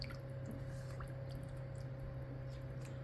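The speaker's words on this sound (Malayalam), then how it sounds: "ഒരു അര കപ്പ് വെള്ളം ചേർത്ത് കൊടുക്കാം ഇത് നന്നായിട്ട് ഇളക്കി കൊടുക്കാം" Squid roast in a pan being stirred after half a cup of water is added, soft wet squishing and faint liquid movement over a steady low hum, quiet and close, no talk.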